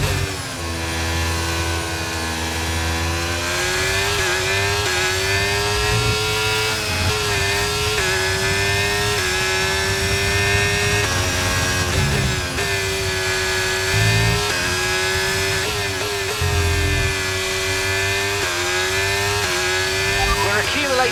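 A Formula 1 car's engine in the F1 23 video game at Hungary howls at high revs, its pitch rising and dropping through gear changes and corners, continuous and loud with a voice talking over it.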